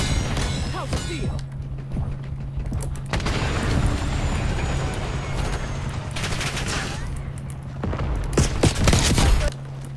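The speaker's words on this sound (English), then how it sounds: "Concussion grenade out." Call of Duty Black Ops 6 combat: a concussion grenade blast amid heavy bursts of rapid gunfire and booms, loud and dense across the scene, with a voice speaking faintly beneath the shooting.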